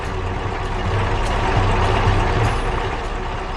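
A truck in a 3D animation rolls toward railway tracks, a loud steady engine rumble and broadband road noise throughout with faint higher clicks, no speech.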